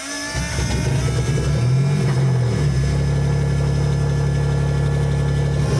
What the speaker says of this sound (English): the Yaris is rather loud. Titanium exhaust, no mufflers, no interior.